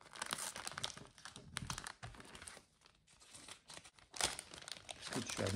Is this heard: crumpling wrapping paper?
yes